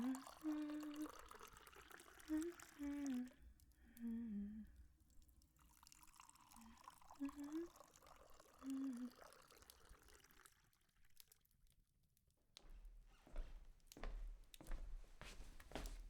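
Tea poured from a pot into cups, soft liquid trickling and dripping in short bursts early on, then quieter clinks and faint handling sounds, all close and gentle.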